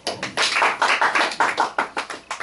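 A church congregation claps in rhythm during a sermon, giving a run of close, crisp, evenly spaced claps that starts abruptly and fades slightly at the end.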